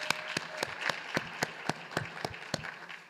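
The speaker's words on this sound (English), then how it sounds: "Let's give a round of applause again for our outstanding class of graduating 2023," A medical school's winter class day audience claps for the graduating class of 2023, a moderately loud, evenly paced run of about a dozen claps.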